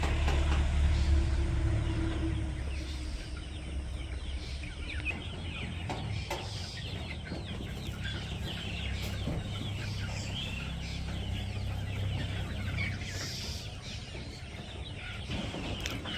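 Frightened chickens at a poultry farm cluck and squawk in a steady, busy chorus as a dog approaches on a foggy winter morning, several birds calling at once over a constant background hum.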